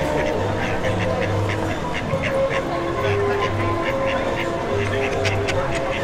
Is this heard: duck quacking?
yes